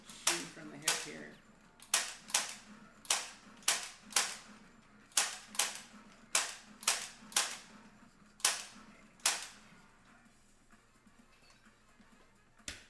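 Light guns fire in a Time Crisis arcade shooting game, a string of sharp, close plastic clicks at an uneven pace, roughly one or two per second, with brief pauses between bursts.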